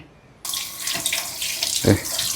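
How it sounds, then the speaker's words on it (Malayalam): Tap water runs steadily over sugar prune fruit being rinsed in a sink, starting abruptly after a brief quiet moment, with a short splashy surge near the end. "ഞാൻ ജസ്റ്റ് ഒന്ന് വാഷ് ചെയ്തിട്ട് കഴിച്ച് നോക്കാൻ പോവാണേ"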